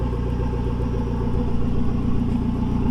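An FBO Mazdaspeed 3 engine idles roughly and loudly nearby, a deep, lumpy, steady rumble with slight pulsing and no voices.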